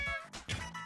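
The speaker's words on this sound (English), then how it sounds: "Insert a knob to hear cats." Short synthesized cat meows played from a Nintendo Labo Toy-Con cardboard piano on the Nintendo Switch, two or three quick pitched mews in a row, close and clear.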